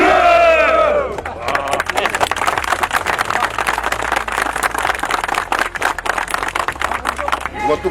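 A group of officers at a farewell for a former prosecutor general roar hurrah together in loud, full-throated unison, the crowd of voices sustained and close after a single voice leads off.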